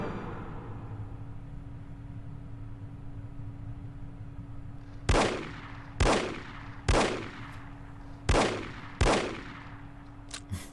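A run of loud, sharp gunshots in the shooter game No One Lives Forever, about five or six evenly spaced cracks each with a short decaying tail, arriving after several seconds of steady hum and background ambience.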